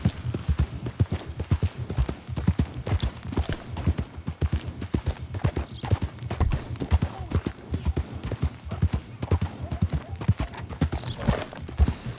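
Horse hooves clip-clop steadily in the Red Dead Redemption 2 video game, a continuous brisk rhythm of close, prominent hoofbeats that carries on unbroken for the whole stretch.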